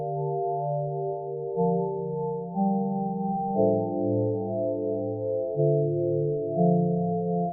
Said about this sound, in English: It's on the kalimba with the kalimba pad preset